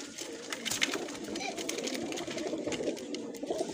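Pigeons at a breeder's loft coo and rustle continuously, a low murmuring bed of sound close by, with a voice talking over it.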